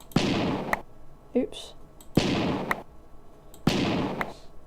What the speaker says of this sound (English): Kept on doing that for the explosion noise.